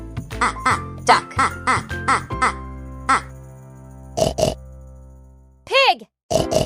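A pig oinks and grunts in a few short bursts, first over a light, bouncy children's tune and then more on its own after the music drops out.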